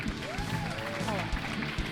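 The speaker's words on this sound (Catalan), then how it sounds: "Un fort aplaudiment per la Bàrbara." Live audience applause at a Catalan talk show recorded in front of an audience at UB Raval in Barcelona, a steady wash of clapping and crowd noise over two seconds, with chatter mixed in.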